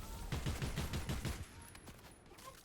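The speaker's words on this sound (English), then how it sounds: "Somebody was shooting at us" Rapid bursts of gunfire from a shooting video game crackle in a dense, steady stream for over a second, then thin out into scattered, quieter shots and game noise.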